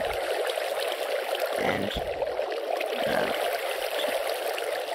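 Steady flowing water in a Minecraft world, a continuous trickling stream at even loudness with a few brief low thumps, while a voice briefly speaks.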